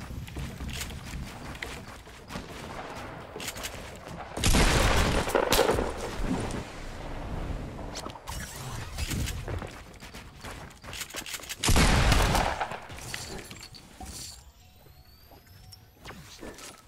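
Gunfire in the Fortnite video game, with bursts of rapid shooting and crackling impacts swelling twice over a steady game soundscape, fairly loud, with quieter stretches between the volleys.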